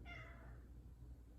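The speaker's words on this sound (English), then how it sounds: "apologies for the cat." A single drawn-out cat meow, fairly faint, over a low background hum.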